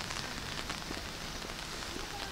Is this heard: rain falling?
yes